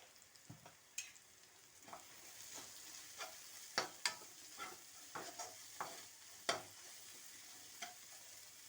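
Spices with chili powder, cumin powder and green chilies fry in a pan while being stirred, a quiet steady sizzle punctuated by a dozen sharp spoon scrapes and taps at irregular intervals, close and alone.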